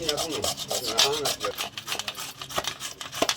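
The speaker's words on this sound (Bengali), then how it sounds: "কুমড়োটা এরকমভাবে আমরা ঘষে নেব।" Pumpkin being rubbed against a grater for egg-and-pumpkin pakoras, quick irregular scraping strokes close by with a few sharper clicks, under light background sound.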